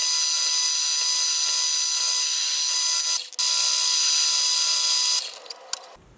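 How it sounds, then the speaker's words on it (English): Metal lathe parting off a small metal stud for a jack plane, a steady loud high mechanical whine with ringing tones that runs without a break, dips once for a moment, then becomes rougher before winding down at the end. "We can now part it off and then machine down the other side and then get the threads cut"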